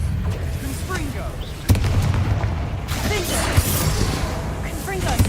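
A Confringo blasting curse goes off with a sudden heavy boom, then a dense rumbling, crackling roar that keeps on with a few smaller thumps, close and loud, with voices faintly underneath.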